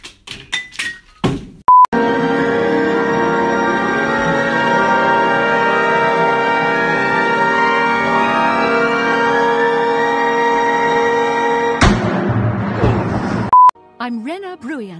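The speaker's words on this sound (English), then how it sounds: "Whose phone is ringing?" A phone rings with a sustained, loud electronic tone for about ten seconds, framed by short beeps and thumps before and after.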